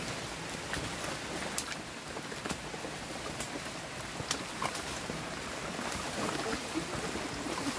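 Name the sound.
light drizzle on the trail to Kawah Ratu, Mount Salak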